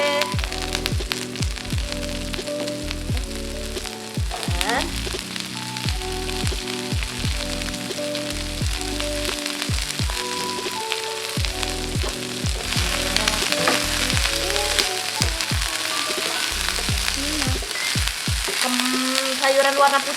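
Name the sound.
cabbage frying in a pan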